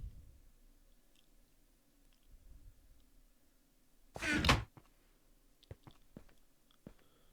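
Golden apples are eaten in a Minecraft Bedwars match: one short, crunchy burst of munching lands midway, with faint scattered clicks and thuds around it.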